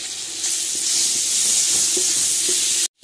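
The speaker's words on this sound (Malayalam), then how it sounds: "അപ്പോൾ നമ്മൾ മസാല നല്ല ഇളക്കി റെഡി ആക്കി കൊടുക്കുകയാണ്" Masala for chicken biryani sizzles in a hot pan as it is stirred, a dense, close, steady frying hiss with soft scraping underneath that cuts off abruptly at the end.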